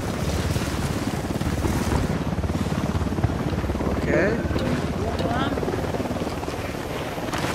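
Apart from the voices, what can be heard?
helicopter in video game Ghost Recon Wildlands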